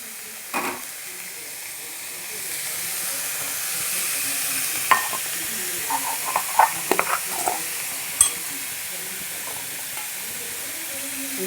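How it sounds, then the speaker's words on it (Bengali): Gourd leaves frying in a pan with a little turmeric give a steady, even sizzle and hiss, broken by a few brief scraping stirs, close and without talk. "ভাজবো ভালো করে, হালকা একটু হলুদ দিলে ভাজার কালারটা সুন্দর আছে"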